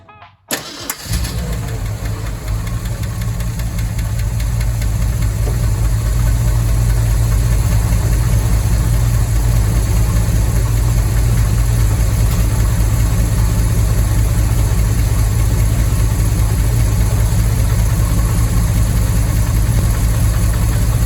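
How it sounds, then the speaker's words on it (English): A 1968 Ford F250 engine, just fitted with a new fuel pump, cranks and catches within the first second, then settles into a loud, steady, rumbling idle that runs unbroken and close by, with no talking. "it might be time to just fire it up and see what happens"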